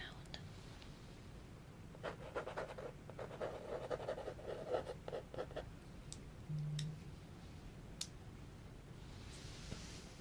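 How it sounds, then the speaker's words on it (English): A pen scratching notes onto paper in a quiet ASMR-style room, close and soft, with bursts of quick strokes, a pause, then a few isolated taps and rustles. "Let me just write that down."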